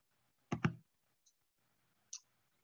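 A computer mouse gives two quick, close double clicks in a quiet room, followed by a faint tick and one more soft click a moment later.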